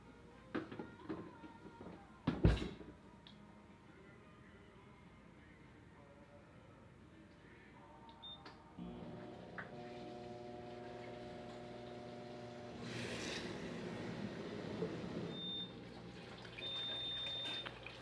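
An OtterBox Adventure Series DryBox 3250 tumbles inside a running commercial-style dishwasher: steady mechanical hum with splashing, spraying water that grows louder partway through, alongside a sharp knock near the start.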